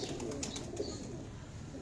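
A Falaksher pigeon coos from a rooftop loft, a few soft low calls over quiet background noise, with faint higher chirps from other birds nearby.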